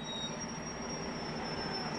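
A bus rolls in at a country club, a steady mid-loudness engine rumble with a constant high whine running through it, heard alone with no voices.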